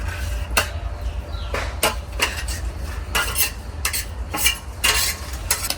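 Fried rohu fish is added to bottle gourd cooking in a pot, with repeated sharp metallic clinks and scrapes of a spoon against the pot in an uneven rhythm over a low background hiss.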